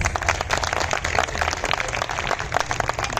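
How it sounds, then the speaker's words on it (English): At a school prize distribution ceremony, the audience applauds students receiving Academic Excellence Awards, with a steady crowd of clapping hands and a low hum beneath, sustained throughout. "I think they deserve a huge round of applause"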